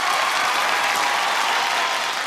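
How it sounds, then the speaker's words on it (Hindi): Studio audience applauding during a comedy show, a dense, even wash of clapping heard alone for a couple of seconds. "तालियां।"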